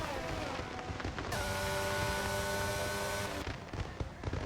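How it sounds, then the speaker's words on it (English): Fireworks bursting in F1 22 during the Singapore Grand Prix, a dense crackling wash of explosions that swells and holds for a couple of seconds over the steady background of the race. "The fireworks are apparently going off."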